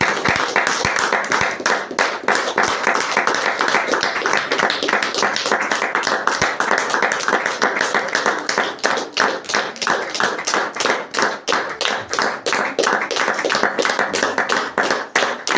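A church congregation claps in acclaim of Jesus, many hands striking together in fast, sustained rhythmic bursts, loud and close, carrying on without pause for the whole stretch.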